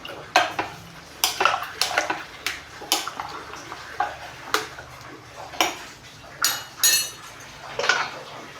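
Turmeric powder being stirred into coconut sambar in a home kitchen pot, a run of light metallic clinks and scrapes of spoon against pot coming in irregular bursts, close and fairly clear.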